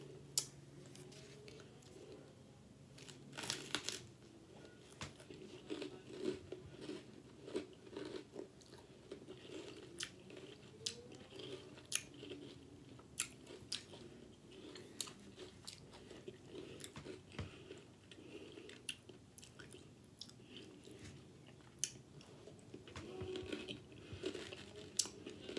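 Flaming Hot Cheetos rolled in cotton candy crunched and chewed close up, irregular crisp bites and mouth noises over a faint steady background hum, no talking.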